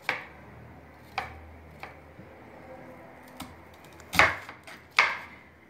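A knife chops onions on a board in a home kitchen, making about six sharp, irregularly spaced knocks with quiet gaps between them.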